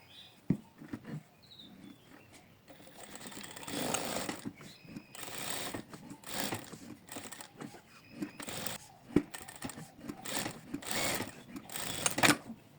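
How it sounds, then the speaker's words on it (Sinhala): A sewing machine stitching around a fabric strawberry bunny toy, with short irregular bursts of needle rattle that stop and restart as the fabric is turned, fairly close and free of speech. "මැෂින් එකේ යට පැත්තට තියලා තමයි අපි මේක වටේම මහගන්නේ."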